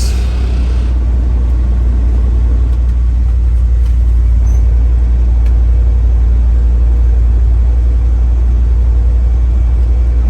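A 1985 Dodge W350 truck engine idles steadily, a loud continuous low rumble with no break and no voices.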